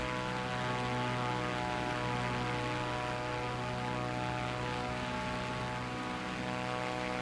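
A Cessna 400TT propeller plane taking off in Microsoft Flight Simulator, a steady loud droning engine hum with a rich buzzing propeller tone, continuous and unchanging, with no talking.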